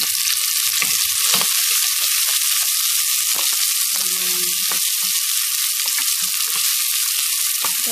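Sliced onions browning and frying in oil in a pan for beef curry, a steady loud sizzle throughout with occasional soft stirring knocks and no talk.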